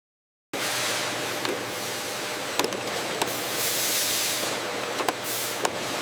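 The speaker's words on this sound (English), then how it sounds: "shrink sleeves tightening around mascara tubes with steam" Steam hisses in a factory line as shrink sleeves tighten around mascara tubes, a loud, continuous broadband rush that starts abruptly and holds steady, with faint clicks and ticks of machinery.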